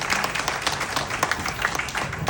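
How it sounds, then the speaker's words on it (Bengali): An audience at a Bengali New Year cultural program in Jakarta claps loudly, a lively, uneven burst of hand claps with distinct individual slaps within the crowd. "একবার জোরে হাততালি দেবেন সকলে।"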